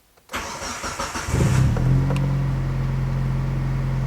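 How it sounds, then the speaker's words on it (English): A 1995 Mitsubishi engine cranks briefly and catches, then settles into a steady, loud, close idle that runs to the end. "when I start the vehicle,"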